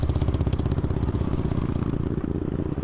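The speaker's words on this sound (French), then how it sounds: "Contrairement aux 3 scooters qui viennent de passer devant moi et particulièrement la grosse bécane Harley Davidson" A big Harley-Davidson motorcycle and scooters pass on Chaweng Beach Road in Koh Samui, with a loud, close, throbbing engine rumble that stays steady throughout.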